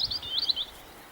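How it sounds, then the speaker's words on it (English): A robin sings from a hawthorn tree, a short run of high, thin chirping phrases that trill on for about a second. It is clear and moderately close, with faint low rumble underneath and no talking. "It is the robin. It's sitting in the hawthorn tree there."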